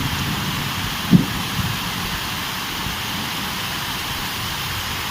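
Steady rain pours down during a thunderstorm with lightning, a continuous close hiss with one brief soft thump early on and no voices.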